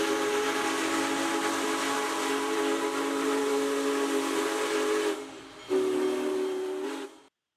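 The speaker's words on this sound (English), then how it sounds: "the railroad operates one of the largest steam locomotives in the world, Union Pacific number 4014" Union Pacific 4014 Big Boy, a giant steam locomotive, sounds a loud, steady chime whistle for several seconds, then breaks off briefly, sounds again and cuts out, with steam hiss under the tone.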